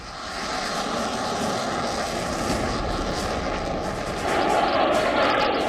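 A Sukhoi fighter jet roars steadily overhead during a military exercise, a broad continuous engine rumble that swells slightly louder toward the end.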